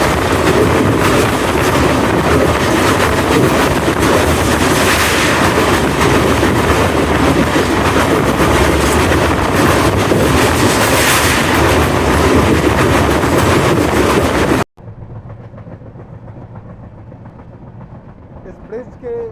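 Passenger train 15908/15907 rumbling across the Bogibeel rail-cum-road bridge over the river in monsoon, a loud, steady roar of wheels and rail clatter heard from inside, dropping suddenly to a quieter cabin hum near the end.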